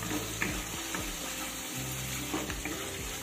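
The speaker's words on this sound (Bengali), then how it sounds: "আরও 1 মিনিট মতো আমি কষিয়ে নিলাম।" Spice paste frying and sizzling in oil in a pan while being stirred for a fish curry, a steady close sizzle with light scraping and stirring clicks throughout, no talking.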